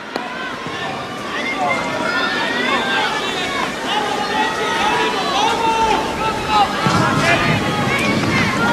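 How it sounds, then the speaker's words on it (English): Strong gusty wind buffets the microphone on a clay tennis court during the 2003 French Open final, roaring and rumbling continuously under a commentator's voice and the crowd. "You can just see the shirt of Verkerk what that wind is doing right now"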